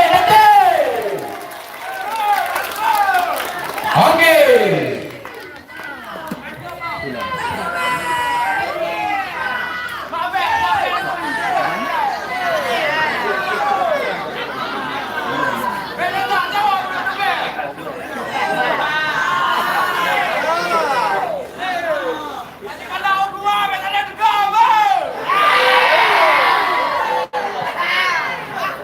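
A school quiz final audience loudly cheers, shouts and chatters in support of the competing teams, with children's voices and scattered clapping filling the hall, and a host speaking briefly.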